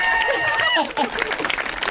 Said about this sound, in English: And that deserves a big cheer.